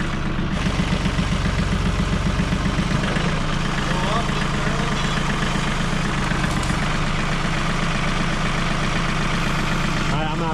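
A tractor engine runs steadily nearby, a continuous low mechanical drone with a faint rhythmic throb throughout, heard close and constant under the surroundings.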